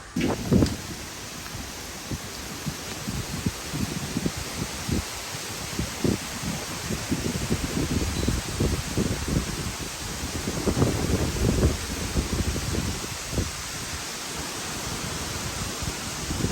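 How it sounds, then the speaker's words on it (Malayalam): Strong wind roars steadily across the microphone, with rough gusts buffeting low and a constant rushing hiss throughout; no one speaks. "ഭയങ്കര കാറ്റ്"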